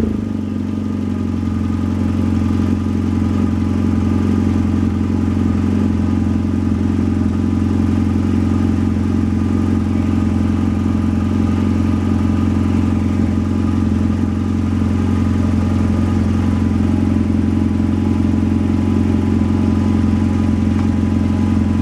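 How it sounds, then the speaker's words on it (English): A BMW F800GS motorcycle engine runs steadily throughout, a loud, continuous mid-pitched drone with a constant low hum and whir, like a steady idle, with no speech over it. "So I'll go ahead and start the bike."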